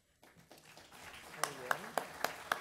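A conference audience begins applauding the panel speakers at a river-transport event, scattered claps building into steady applause, with a few louder sharp claps near the microphone.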